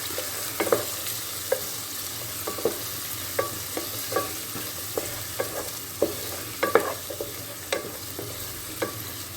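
Chopped onion, green chilies and curry leaves fry in hot oil with a loud, continuous sizzle, punctuated by regular sharp clicks of a spoon stirring against the pan; no talking.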